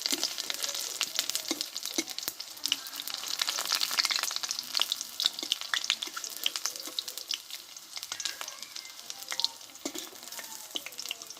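Cauliflower-leaf fritters fry in hot oil, a dense continuous crackling sizzle with sharp pops scattered throughout, close and steady with no talking.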